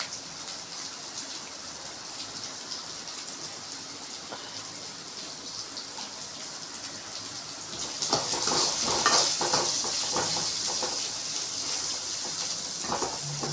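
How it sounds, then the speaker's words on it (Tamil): Onions sautéing in a pan for beans poriyal, a soft continuous sizzle that jumps louder and crackly partway through, with occasional stirring scrapes. "வெங்காயம் நல்லா வதங்கி வரணும்."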